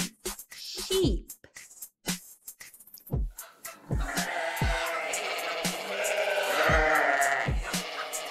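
Sheep bleat repeatedly in short, wavering calls, with a dense chorus of bleating from a flock building up in the background.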